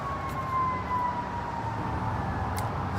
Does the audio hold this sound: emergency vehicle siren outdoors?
yes